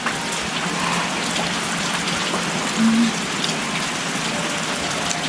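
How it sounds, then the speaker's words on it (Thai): Heavy rain pouring down steadily in a rural Thai setting, a dense continuous hiss of drops with a brief louder gush midway, no voices. "ฝนตก"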